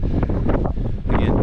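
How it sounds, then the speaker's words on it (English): Strong desert wind buffeting a lapel microphone while hiking toward an old mine, constant heavy low rumbling gusts filling the whole moment. "Again, crazy windy."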